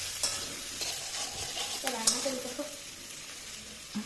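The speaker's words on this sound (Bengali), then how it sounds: "পেঁয়াজ রসুনটা একটু ভাজা হোক।" Onion and garlic sizzle steadily in hot oil while being stirred for begun bhorta, a dense close frying hiss with scraping stir sounds and a faint voice briefly underneath.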